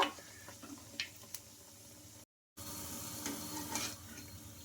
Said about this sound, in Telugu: నిదానంగా బాగా క్రిస్పీగా వచ్చే వరకు ఫ్రై చేసుకోవాలి వీటిని అటు ఇటు తిప్పుకుంటూ